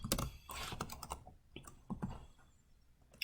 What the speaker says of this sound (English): all I had to do was start typing them